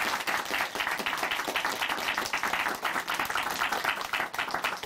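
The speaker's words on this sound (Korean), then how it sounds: "감사의 박수를 다시 한번 전해드릴게요." An audience in a church television show studio claps in thanks, a dense, even burst of applause heard alone for several seconds.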